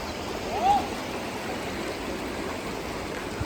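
Strong, fast flow of cold lake water, a steady broadband rush heard close and continuous throughout, with no other prominent sounds.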